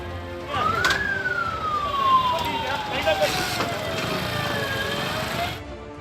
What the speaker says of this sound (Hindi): सायरन बजाती पुलिस की गाड़ियां रुकती हैं